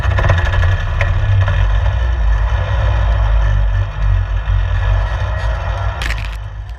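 RV engine droning as it drives a rough dirt road with tall berms around Mankomen Lake, Alaska, a loud steady low rumble with rattles and jolts from the vehicle body.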